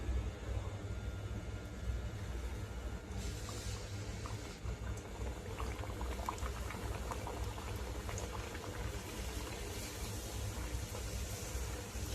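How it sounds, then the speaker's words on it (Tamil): Puri frying in hot oil, a steady, dense bubbling hiss that holds at an even level throughout with no voices. "எண்ணெய் நல்லா காஞ்சிருச்சு. இப்ப பூரி போட்டுக்கலாம்."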